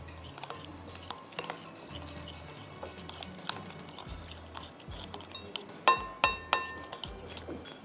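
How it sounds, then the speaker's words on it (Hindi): Chicken marinade is stirred in a glass bowl, giving light intermittent clinks and taps that grow into several sharper ringing knocks near the end, with soft background rustle. "मिक्स कर लीजिए अच्छी तरह।"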